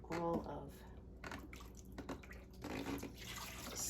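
A finished cross stitch piece rinsed under running distilled water, giving a continuous splashing trickle with drips that stays close and steady throughout.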